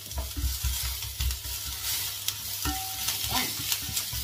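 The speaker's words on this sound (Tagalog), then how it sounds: "Unahin muna natin ang ating sibuyas. Isabay na natin ang ating luya. Gisa-gisa lang natin ang konti." Onion and ginger sauté in a hot pan, a steady close sizzle broken by stirring scrapes and clatters of the spatula against the metal, with no talking.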